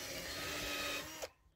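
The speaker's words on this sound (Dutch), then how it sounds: "is al lekker bezig met gaten boren" Power drill boring holes outdoors, a steady whirring whine held for over a second before it stops abruptly, leaving quiet background.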